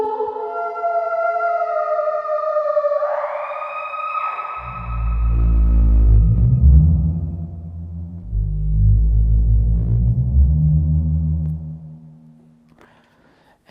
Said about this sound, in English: if I turn up the delay high and turn that damping way down, now I'm going to get big reverb